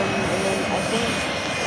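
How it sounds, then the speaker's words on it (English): A Bombardier jet's engine roars as a steady, loud broadband rush with a thin high whine, alongside airshow background noise. "this is a bombardier jet"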